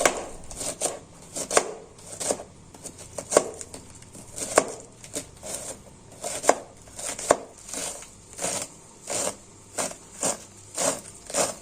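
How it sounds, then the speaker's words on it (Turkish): A knife taps rapidly on a cutting board chopping green onions in repeated bursts, steady and close, with short pauses between runs. "Üç dört tane taze soğan doğradım."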